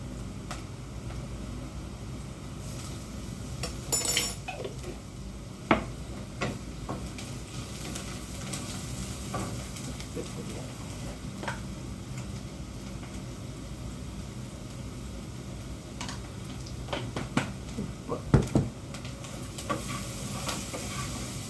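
Ginger and garlic fry in a pan for a spinach and lentil curry, giving a continuous sizzle with occasional stirring scrapes and clatters, no talking.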